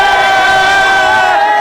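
Miami Hurricanes fans roar in a dense, steady crowd cheer hours before kickoff of a football game against the Florida Gators, loud and continuous without a break.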